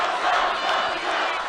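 A large crowd at a Donald Trump rally roars and cheers in a dense, continuous wash of voices, loud and close.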